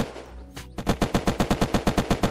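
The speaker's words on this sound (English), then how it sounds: "He's shooting at me." Rapid automatic gunfire in the survival video game Unturned: after a few scattered shots, a steady burst of about fifteen evenly spaced, loud, punchy rounds fires without pause, with no talking.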